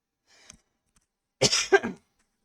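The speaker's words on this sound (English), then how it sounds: "I have a bit of a cough and it's messing with my voice." A single harsh cough, close and fairly loud, preceded by a faint breathy throat sound, with near silence around it.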